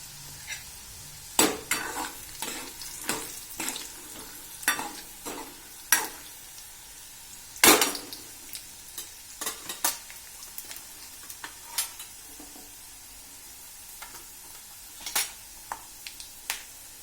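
Peanuts stirred and frying with browned garlic in a pan, a steady sizzle broken by repeated scraping strokes of a spoon against the metal, close and fairly loud with no talking.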